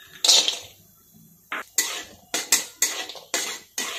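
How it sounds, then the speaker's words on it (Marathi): Dry fruits tossed in ghee in a pan for makhana laddu, heard as a burst of sizzle followed by a series of sharp clinks and scrapes of a spoon against the pan in an irregular rhythm, close and fairly loud, with no talking. "याच्यामध्ये ड्रायफ्रूट परतून घेऊ"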